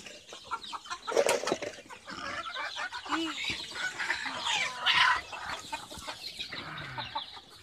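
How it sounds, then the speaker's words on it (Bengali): Desi chickens cluck and squawk in short bursts at moderate distance on a poultry farm, with scattered bird calls and faint background noise. "তো দেখেন আমি একটা মুরগি নিচ্ছি, বলা ছিল একটা দেশি মুরগি, একদম দেশি।"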